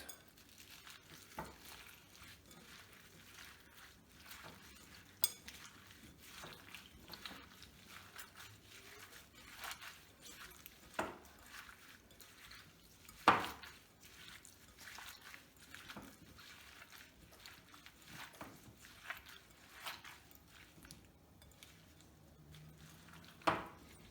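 A Starbucks-style Cool Lime drink with mint and a thin pineapple slice being stirred, giving faint, sparse clinks and soft liquid swishes scattered over a quiet background, with an occasional sharper tap.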